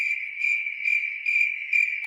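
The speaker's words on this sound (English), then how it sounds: "Crickets." Cricket chirping as a sound effect: a steady, bright insect trill with a regular pulsing rhythm, close and clear against total silence.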